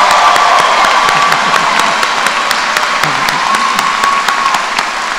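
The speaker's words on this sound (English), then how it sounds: "Let's give them all a round of applause." An audience at a College of Natural Resources graduation ceremony applauds loudly and steadily, and the dense clapping carries on through the whole stretch.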